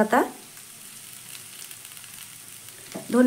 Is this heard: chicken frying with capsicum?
yes